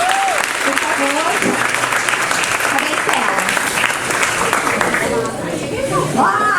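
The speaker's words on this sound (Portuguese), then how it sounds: "vamos aplaudir imensamente Stella Guilherme, por favor" An event audience in São Paulo applauds a speaker at length, loud sustained clapping mixed with cheers and crowd chatter, with voices calling out over it and dipping slightly near the end.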